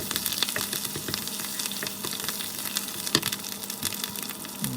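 Homemade and ready-made Thai curry paste stir-fries in a hot pan for spicy pork leg, producing a crackling sizzle dotted with quick spatula scrapes and taps, close and continuous without voices.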